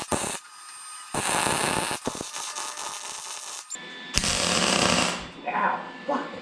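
MIG welding along the seams of an S10 truck frame gives a harsh crackling buzz in short bursts broken by brief gaps, close and loud, with a voice speaking briefly near the end.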